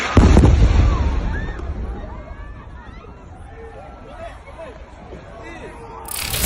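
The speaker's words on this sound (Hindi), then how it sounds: "इजराइल ने कुछ देर पहले जो गाजा पर बमबारी की है वो मंजर क्या है।" Bombing explosions over Gaza set off a heavy, booming blast at the start, then a long rumbling, crackling roar that slowly fades, with crowd noise and voices underneath.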